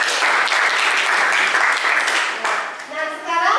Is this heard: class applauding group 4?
yes